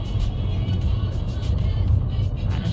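A car creeps slowly along an icy, snow-covered road near Pinto, Madrid, during a January snowfall. Its low, steady engine rumble sounds from inside the cabin and holds even throughout, with no voices.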